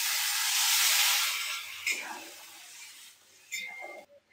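Water hits hot oil in a pan and bursts into a loud hissing sizzle that gradually dies down, with a few clinks of utensils near the end.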